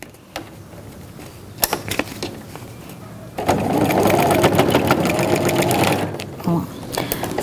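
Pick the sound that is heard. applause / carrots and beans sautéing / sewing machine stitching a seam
sewing machine stitching a seam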